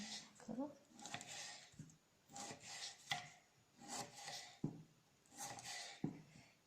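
A knife cuts food into thin matchstick strips about 0.2 mm thick, giving a quiet, regular series of short scraping strokes on a board, roughly one every 0.7 seconds.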